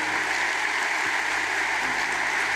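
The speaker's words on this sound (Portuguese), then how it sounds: "Receba essas palmas, meu Deus," Steady applause from a church congregation, a continuous dense clatter of many hands at moderate loudness, holding evenly throughout with no voices over it.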